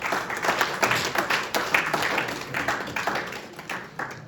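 Event audience at the 1000 Shades of Women Foundation 10-year anniversary clapping for an honored guest, a steady, fairly loud round of many hands that pulses slightly and tapers off near the end.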